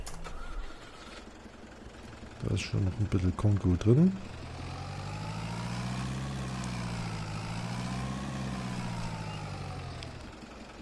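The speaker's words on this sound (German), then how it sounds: "Dann haben wir den Traktor." In Farming Simulator 22, a tractor engine cranks with a few quick chugging bursts, then catches and settles into a steady low idle, while someone talks briefly over it.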